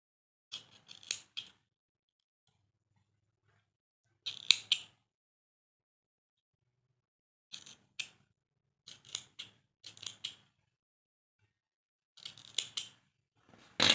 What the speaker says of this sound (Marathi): त्याला आपण बांधून घ्यायचं आहे व्यवस्थित आणि कट करून घ्यायचा आहे